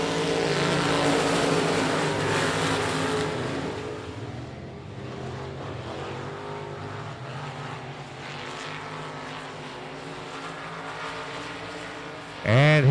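Dirt track race cars and trucks roaring past at I-37 Speedway on the final lap, a loud engine roar that swells and then recedes, with another engine passing close at the very end.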